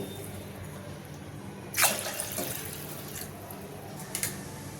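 A short burst of water splashing and pouring onto dal in a pressure cooker, then a few faint drips and a small second splash, with a quiet hum underneath.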